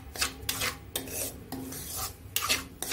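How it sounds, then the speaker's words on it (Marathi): A spoon stirs banana slices roasting with semolina in a pan, producing repeated close scraping and rubbing strokes in an uneven rhythm, about five or six sweeps, with no one talking. "रव्यासोबत केळी पण भाजून घ्यायची आहे"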